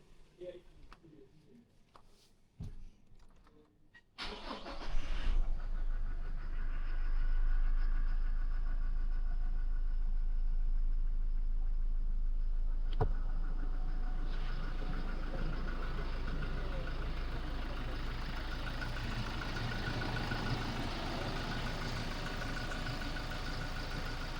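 A used car engine idles steadily and close by in Thailand, a continuous low rumble that starts after a few seconds of quiet handling noises and runs on evenly.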